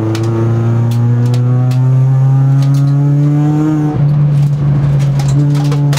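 A Peugeot 206 RC rally car pulls away hard, its engine loud and close, revving steadily up through the gears with a brief dip at a shift before climbing again, no voices.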